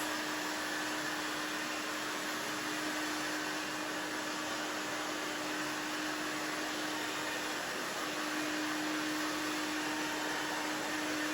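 A hair dryer blowing on a short pixie haircut, a loud, constant, even whoosh of air with a steady motor hum, close by and unbroken, with no voices over it.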